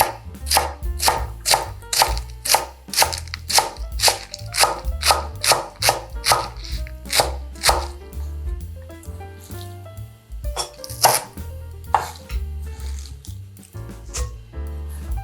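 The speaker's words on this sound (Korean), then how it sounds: "채를 썰어주세요." A knife shreds spring cabbage (bomdong) into thin strips on a cutting board, a fast, sharp, evenly paced run of close chops that pauses briefly and then resumes more sparsely.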